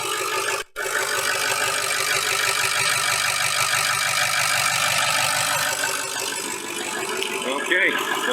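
A Ford 6.0 diesel engine idles steadily with a rough, rattling clatter that runs continuously and close by, broken by a brief dropout near the start, with faint voices underneath.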